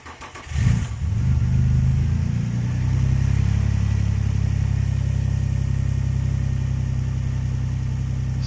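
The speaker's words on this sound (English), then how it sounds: "now starting up the car." A Nissan Stagea NM35 with a rebuilt VQ25DET engine cranks briefly, fires up with a sharp surge of revs, then settles into a loud, steady, smooth idle close by.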